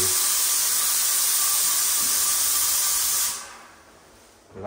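A paint sprayer coats a newly built house with a loud, steady, close hiss that holds for about three seconds, drops away to near quiet, then starts again briefly at the end.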